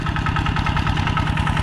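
A tractor engine idling while out plowing a rice field, giving a rapid, even low chugging pulse that is loud and close throughout a brief stretch with no voices.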